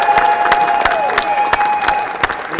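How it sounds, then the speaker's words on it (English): A rally crowd of disability advocates applauds, scattered sharp claps and cheering close by, with a steady tone running underneath. "So give yourself a round of applause"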